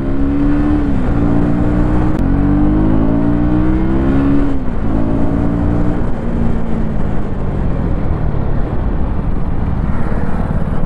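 A 2024 Husqvarna Vitpilen 250 motorcycle rides through city traffic, its engine droning loud and close, with rising and falling pitch as it accelerates and shifts gears, mixed with steady wind rush throughout.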